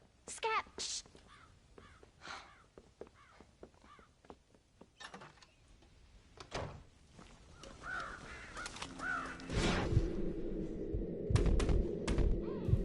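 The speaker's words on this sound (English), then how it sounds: "They've broken into the silo again and are eating all the corn out from it." Crows caw around a corn silo in Red Dead Redemption, sharp repeated calls scattered through the first half, then gameplay noise and a low rumble build up later, with faint talk in places.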